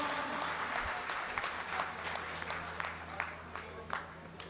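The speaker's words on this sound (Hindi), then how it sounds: "जोरदार ताली बजा करके स्वागत अभिवादन करें भाई साहब का" Crowd applause at a political party workers' meeting welcoming a former MLA, with steady dense clapping throughout and a few louder claps standing out near the hall's audience.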